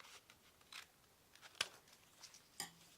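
Scissors snip through a sheet of music paper being cut down for a napkin envelope, a few quiet, separate cuts spaced about a second apart in a hushed room.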